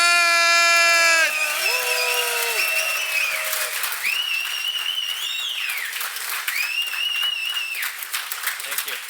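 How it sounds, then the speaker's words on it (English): Audience applause greeting the speakers at FinOps X Europe, a cloud cost conference, swelling into sustained loud clapping and cheering after tonal announcement chimes fade, filling the hall for several seconds. "give a giant FinOps X Europe round of applause to welcome our speakers, Mike Rosenberg and Alon Arvatz!"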